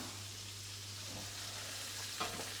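A steak fries in a pan while being basted, a quiet even sizzle with faint spoon scrapes and a small clatter near the end.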